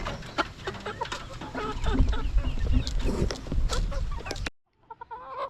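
Brahma cross chicks and hens in a backyard, clucking and peeping close by at moderate volume, with a busy scratchy bed of noise before the sound cuts off abruptly near the end.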